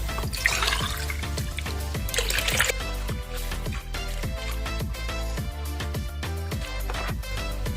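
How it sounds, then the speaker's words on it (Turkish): Five glasses of water poured into a pot of sugar for baklava syrup, a steady liquid splash and trickle running beneath continuous rhythmic background music for several seconds. "Üzerine 5 bardak suyumuzu koyalım."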